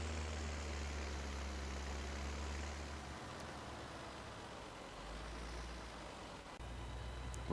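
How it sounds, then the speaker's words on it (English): A 150 horsepower Schluter tractor in Farming Simulator 2017 strains to pull a forestry trailer uphill, its engine a steady, loud, low drone with no break. "the Schluter, the 150 horsepower mega tractor, our mega tractor, is having trouble pulling a trailer up a hill"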